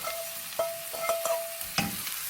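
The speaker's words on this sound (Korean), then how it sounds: "아까 이렇게 볶아놓은 새우 있죠? 새우를 조금 넣고 다 넣을 거예요, 이거." Shrimp and zucchini stir-fry in a pan for a Korean side dish, a soft sizzle under a few light scrapes and clinks of a utensil against the pan, quiet and close.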